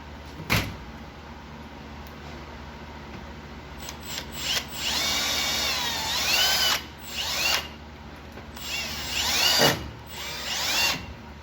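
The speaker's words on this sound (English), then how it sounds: "Go ahead and drill that in." A power drill whirs in several bursts, rising and dropping in pitch as it drives a screw, with short pauses and clicks between runs.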